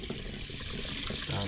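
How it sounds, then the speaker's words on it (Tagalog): Water pours into a pot of pork stew with mustard greens, bok choy and cabbage, a steady close trickle and splash running the whole moment under faint background voices. "lagyan natin ng tubig"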